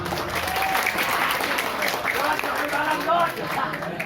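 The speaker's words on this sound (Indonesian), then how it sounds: "Tepuk tangan dulu loh." An audience at a live religious gathering at an Islamic boarding school applauds continuously, mid-distance clapping blended with crowd voices chattering underneath.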